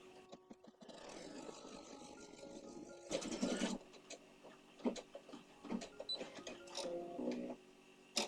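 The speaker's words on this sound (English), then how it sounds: "I'm going to run number 12 to make a placement stitch where I can put down my white" An embroidery machine runs a placement stitch for laying down white fabric, giving a steady mechanical whir with sharper rhythmic clacks and bursts of needle motion throughout, fairly close and alone.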